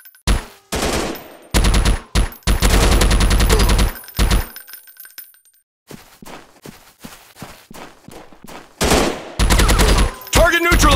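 Bursts of rapid automatic gunfire from the Android robot shooter Counter Terrorist Strike, loud close volleys separated by short gaps and a quieter stretch of footsteps and softer noise midway.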